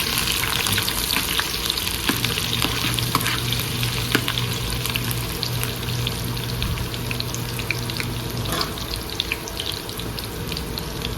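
Shallots fry in hot oil in a pan while being stirred, a dense continuous sizzle with scraping and clattering from the spoon, close and loud, running steadily for about eleven seconds with no talk.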